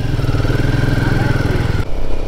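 A Royal Enfield Himalayan 450 motorcycle idles close by with a steady, throbbing low rumble that holds throughout and dips briefly near the end, with no voices.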